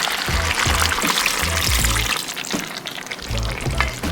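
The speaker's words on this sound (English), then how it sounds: "going in with a little bit of water just to loosen things up a little bit" Water poured into a pot of Jamaican brown stew chicken, a bubbling, sizzling rush as the liquid hits the hot pot, loud and close, with intermittent low thumps.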